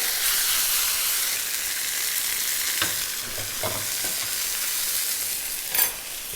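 Dover sole frying in a hot pan, a steady bright sizzle and hiss with a few soft knocks and shifts partway through and a brief louder flare near the end, no talking.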